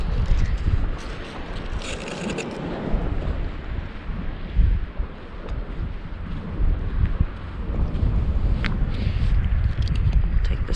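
Wind buffets across a South Carolina barrier island beach, a steady rough rushing roar with gusty swells, loud and close, with no talking.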